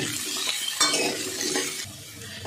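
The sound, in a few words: kohlrabi frying in oil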